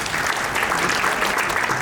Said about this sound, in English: let us welcome Durai Rajan sir with a big round of applause